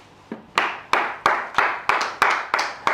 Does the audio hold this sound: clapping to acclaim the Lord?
yes